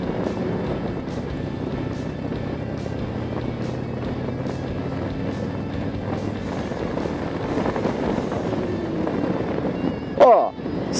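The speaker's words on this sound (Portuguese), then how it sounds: "Vou dar uma aceleradinha e vou segurar um pouquinho o freio pra gente testar" A 2018 Harley-Davidson Road King Special motorcycle runs with a steady rumbling engine note that rises slightly toward the end as the brake is held, followed by a brief loud clunk near the close.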